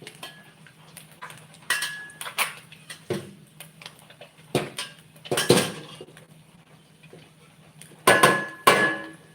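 A thin metal frying pan clanks and scrapes in scattered bursts, with several sharp knocks and clinks standing out against a quiet, steady background hum.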